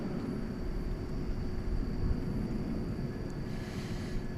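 A distant airliner departing DFW Airport for Waco gives a faint, steady broadband roar on a quiet night, with no talk.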